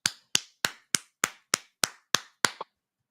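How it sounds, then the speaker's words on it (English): Nine sharp hand claps in an even, steady rhythm, loud and close with clean silence between them, the last two coming quickly together before the sound stops. "Now, clap your hands and celebrate."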